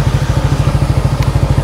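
A black Yamaha Nmax 180cc motorcycle with a WF pipe runs at idle nearby, a loud, even, rapid chugging pulse with no one talking.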